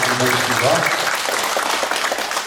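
Audience applause fills the hall at a poetry recitation contest as award winners are congratulated, a dense, loud wash of many hands clapping that holds steady and fades slightly at the end.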